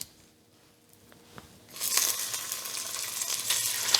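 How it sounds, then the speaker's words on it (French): Veal paupiettes dropped into very hot oil over high heat, a quiet lead-in giving way to a loud, steady hiss and crackle of frying that carries to the end, with no voices. "c'est de faire revenir les paupiettes dans de l'huile bien chaude quelques minutes"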